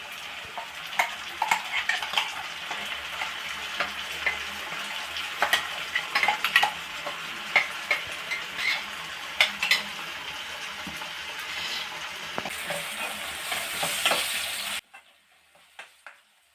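Liver sizzles in a pan as ground masala is stirred in, with a steady frying hiss and repeated scraping, clinking stirs close by, ending abruptly in quiet.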